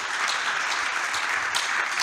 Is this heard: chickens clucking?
no